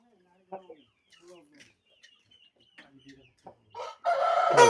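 Roosters and chickens on a poultry farm give scattered soft clucks and chirps at low level, then a loud rooster crow bursts out near the end, with some voices mixed in.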